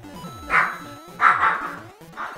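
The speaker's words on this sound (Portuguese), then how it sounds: "Cachorrinho aqui animou" A small dog barks close by, giving three sharp yaps spaced roughly evenly over a couple of seconds, each one rising out of quieter background game music.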